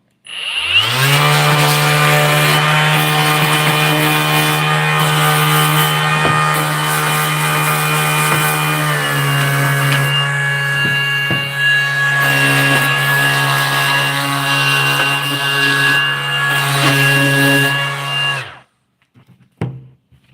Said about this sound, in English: I'll very quickly sand this down because on the top it's really sticking out